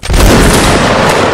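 A loud musket volley in the video game Mount & Blade, a massed line of muskets firing together in a single close, booming blast that rolls on for about a second.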